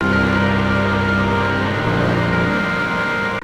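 A sustained guitar chord processed with OTT multiband compression plays alone, dense and bright with squashed dynamics, holding steady before cutting off abruptly.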